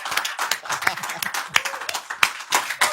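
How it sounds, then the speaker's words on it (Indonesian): Brief, irregular clapping from a small studio audience greets Deddy Corbuzier, each clap crisp and close, with no speech over it. "Tepuk tangan buat Deddy Corbuzier"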